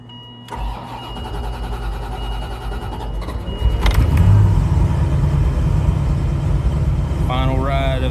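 Corvette engine being started, a starter cranking for a few seconds before the engine catches and settles into a loud, steady idle close by, with a voice speaking briefly near the end.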